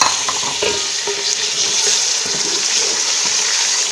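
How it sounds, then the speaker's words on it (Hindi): Chicken frying in a pan with onions already fried golden, giving a steady, close broadband sizzle with small crackles and stirring scrapes throughout, no talking. "अब मैं इसमें डालूंगी चिकन।"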